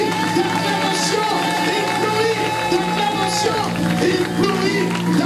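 A church congregation cheers and acclaims loudly during a worship service, a dense sustained crowd roar with voices and possible music mixed throughout.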